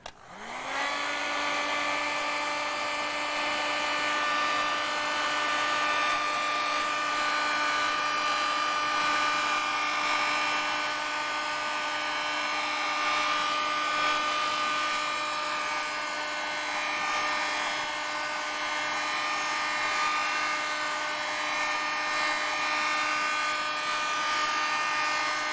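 Hair dryer blowing on a watercolour painting, switched on at the start and then a loud, steady whining roar with a constant motor hum lasting the whole time, close and alone.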